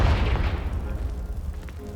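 A Confringo blasting spell from the Hogwarts Legacy video game erupts in a loud, close boom that rolls off into a rumbling, crackling decay lasting about two seconds.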